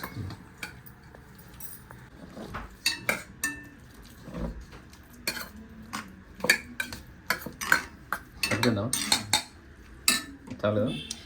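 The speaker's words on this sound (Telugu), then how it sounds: "ఆలు మ్యాష్ చేసేసుకోవాలన్నమాట" Boiled potatoes for masala dosa filling are mashed with a masher in a metal vessel, giving close, irregular clinks and knocks in uneven bursts over a quiet background.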